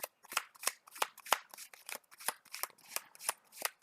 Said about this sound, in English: This is a Hawkeye deck, so there's a lot of shuffling to do.